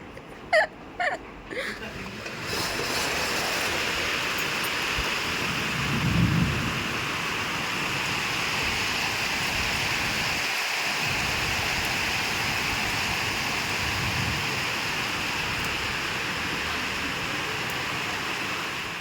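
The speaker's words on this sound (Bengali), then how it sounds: "অনেকক্ষণ ধরে ঝমঝম করে বৃষ্টি পড়ছে" Heavy rain roars steadily, a thick continuous wash, with a few sharp knocks at the start and low rumbles swelling now and then.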